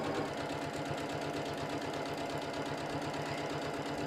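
A sewing machine stitches a straight forward seam on fabric, a steady close mechanical whir with rapid even needle clatter running continuously without pause.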